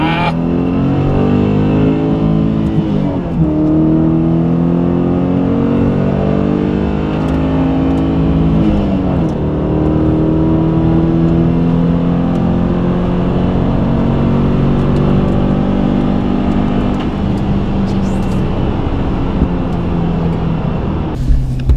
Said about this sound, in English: I'm in the drive-thru car wash again, but it's the touchless kind at least.